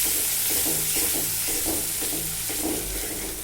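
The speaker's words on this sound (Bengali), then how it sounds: "তো এটাকে আমি এখন নেড়ে দিব।" Cumin powder being stirred into onions and spices in a pan, with a spoon scraping and tapping in a steady rhythm over a constant sizzle, close by.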